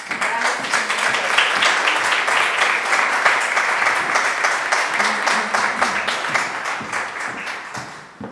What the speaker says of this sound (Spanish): Así es que les dedicamos un aplauso a sus grandes compañeros.